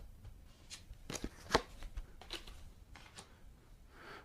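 Four plastic attack dice are rolled for a HeroQuest board game, giving a scattered series of sharp clattering taps and knocks, with one louder hit partway through.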